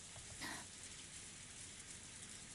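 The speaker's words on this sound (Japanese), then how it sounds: "雨、とうとう降り出したのね。" Steady rain falls as a dense, even hiss of drops with a brief brighter splash near the start, soft and continuous with no other sounds.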